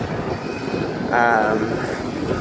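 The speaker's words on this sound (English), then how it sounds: "We've still got the airplanes circling around." Airplanes circle overhead near a pipeline construction site at Standing Rock, a steady distant engine drone with a brief louder whine. A voice talks faintly underneath.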